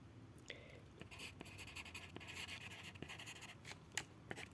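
Marker or pen scratching across a board while a slope is written out for a math function, with short strokes and taps over faint room noise and no talking.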